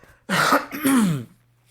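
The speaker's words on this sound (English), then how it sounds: "If I cough a few times, just ignore that." A single harsh cough or throat clear, close and fairly loud, lasting about a second, followed by quiet.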